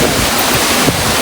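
Atake Falls beside Marcos Highway pours in a loud, steady broadband rush, with gusts of wind buffeting the microphone on top and no one speaking.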